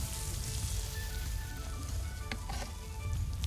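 Grilled oysters bubble and sizzle steadily on a hot grill, a dense crackling hiss with occasional pops, and no one talking.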